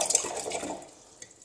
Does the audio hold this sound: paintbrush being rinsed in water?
yes